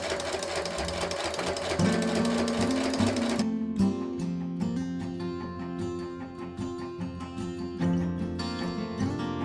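Sewing machine stitching along quilt edges for a pumpkin table runner, a steady close whirring run of stitches with a brief shift partway through, continuing loud throughout.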